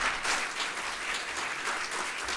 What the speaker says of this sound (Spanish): les pido un aplauso también para los panelistas que nos acompañan